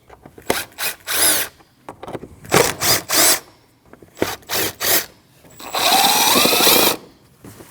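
Power tool spinning out four 8mm bolts from the air cleaner box on a 2013-2019 Ford Escape 1.5L L4, loud close whirring bursts in repeated short runs, ending with one longer continuous run.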